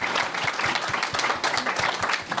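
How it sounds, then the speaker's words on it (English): Audience at a writers' festival panel breaking into applause, a dense sustained burst of clapping from a crowd in a hall. "That's really I think that's worth a round of applause."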